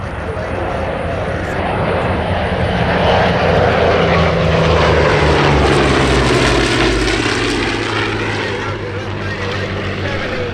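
An A-26 warbird airplane makes a fast pass at an air show, its piston engines roaring as it approaches, swelling to a peak and fading as it goes by, with an announcer talking over it.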